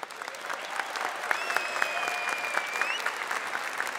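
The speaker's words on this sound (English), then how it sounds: "we have to give a big round of applause for your second place finishers" A crowd at an esports world championship LAN final claps and cheers for the second-place team, Poland, in a steady dense roar with whistles rising over it.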